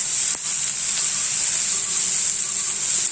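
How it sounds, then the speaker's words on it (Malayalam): Chopped onions for masala idli sizzle and fry in a hot pan with turmeric, a steady loud hiss with a faint stir near the start, no voices. "പിന്നെ നല്ലോണം ഒന്ന് വഴലുന്നോളം വരെ ഒന്ന് ഇളക്കി കൊടുക്കാം"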